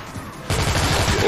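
In the zombie shooter Dead Trigger, rapid gunfire bursts in abruptly after a quiet moment, a loud rattling stream of close shots that continues to the end.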